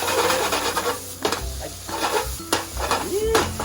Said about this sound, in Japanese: ケチャップを炒めるという感じですね